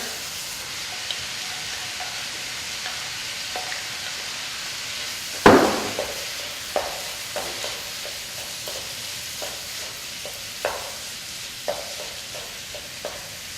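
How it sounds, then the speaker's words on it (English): Mushrooms and shrimp tossed into a hot pan, one loud clattering drop followed by a continuous hissing sizzle and scattered spoon taps and scrapes against the pan. "to that I'm going to toss in the mushrooms and the shrimp"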